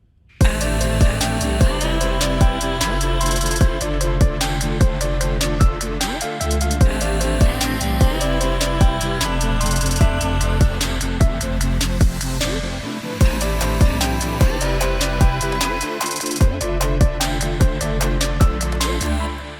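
Electronic track, built partly from a Cymatics sample pack, with a pad and punchy repeating drum hits in a steady beat. The music plays loud and continuous for about twenty seconds with brief drops, and nobody speaks.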